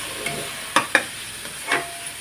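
Onions and fresh ginger paste frying in a pan, with a soft continuous sizzle under a few sharp scraping and stirring knocks spaced irregularly.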